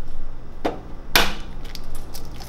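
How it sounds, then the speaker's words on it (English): An egg is cracked with one hand, giving two sharp close cracks about half a second apart, the second louder, followed by faint small taps and shell rustle. "I don't know if you guys ever seen people crack eggs with one hand"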